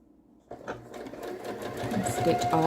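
Sewing machine stitching quilt pieces together, starting abruptly and running as a steady, close mechanical whir that builds slightly in loudness, with a voice faintly present underneath.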